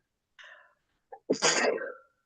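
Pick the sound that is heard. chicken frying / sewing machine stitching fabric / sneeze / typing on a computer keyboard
sneeze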